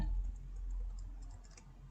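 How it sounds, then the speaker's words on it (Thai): Arrow keys on a computer keyboard are tapped during photo editing, giving a few soft, quick clicks, faint and close, over a quiet background hum. "ก็ตรงที่เลื่อนภาพนี้ใช้ลูกศรตรง คีย์บอร์ดนะคะ ลูกศรซ้ายขวาหน้าหลัง"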